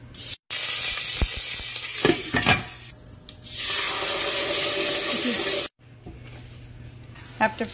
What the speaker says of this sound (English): Have to fry it for a little bit.